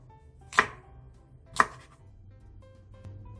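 Two crisp knife chops through fish cake onto a cutting board, cutting thick slices about a second apart, followed by quieter faint kitchen knocks.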